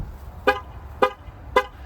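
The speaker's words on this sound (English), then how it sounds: "that triple honk means the vehicle is currently running and I have left with the keys" A 2024 Jeep Wrangler Rubicon 4xe gives a triple horn honk when it is left running after the keys walk away. Three short, evenly spaced toots sound at moderate distance over low background hum.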